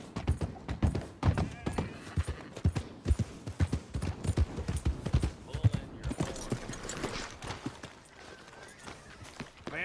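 Horse hooves clip-clopping in a steady trotting rhythm while riding in Red Dead Redemption 2, close and distinct, gradually easing toward the end, with brief spoken voices over them.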